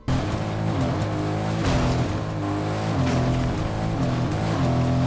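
A car engine from the Fortnite video game, a buzzy, bee-like hum that holds steady and loud for several seconds, its pitch stepping up and down in repeated rising sweeps.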